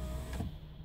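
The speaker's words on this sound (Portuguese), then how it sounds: "Só abrir o vidro aqui rapidinho." A car's electric power window motor whirs briefly as the glass opens, a short close whine lasting under a second inside the vehicle.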